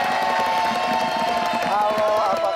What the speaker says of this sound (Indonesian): Tepuk tangan dulu dong untuk suara Mamun.